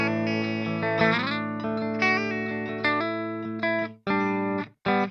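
An electric guitar played through a Dophix Medici MORE FUZZ pedal, recorded direct without reverb, rings out with thick, buzzy sustained chords, then a few short choppy strums.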